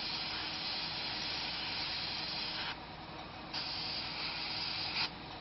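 An airbrush sprays thinned paint onto a helmet with a steady, faint airy hiss that briefly drops and resumes a couple of times.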